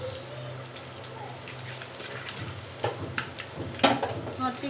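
Crispy chicken fingers fry in hot oil with a continuous close hiss, and popping crackles grow sharper and louder toward the end.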